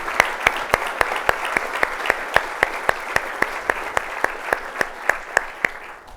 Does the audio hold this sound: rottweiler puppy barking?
no